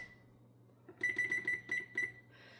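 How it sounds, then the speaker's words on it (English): A kitchen stove timer is set, giving a quick series of about six sharp electronic beeps, close and clear after a quiet start, followed by a softer tone. "So, I'm going to set my timer on my stove for 1 hour."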